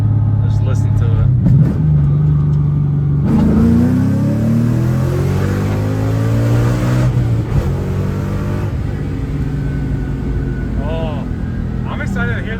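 A Ford Mustang 5.0 with a Borla exhaust revs hard from inside the car, a loud, deep rumble that climbs and falls through several sweeping rises, with people talking over it.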